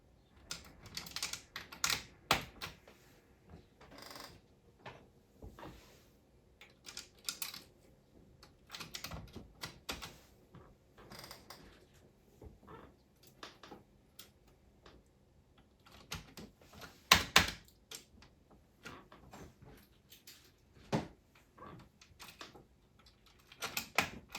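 Plastic clicks and taps of 3D printed function keycaps being pressed onto the stems of a Commodore 64 keyboard during a repair, a dense run of short, close, crisp snaps with brief pauses and a sharper cluster near the end.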